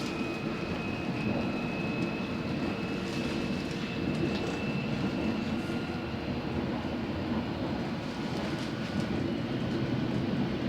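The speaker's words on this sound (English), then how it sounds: "That was the full journey from Hammersmith to Mile End on Hammersmith and City Line" A London Underground Hammersmith & City line train running between stations, a constant loud rumble with a faint whine and light rattling, steady throughout and heard from inside the carriage.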